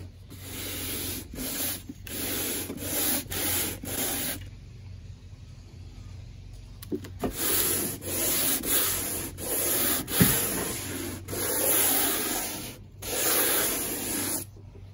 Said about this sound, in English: I'm using some pretty aggressive sandpaper, 100 grit, the same stuff that you sand drywall down with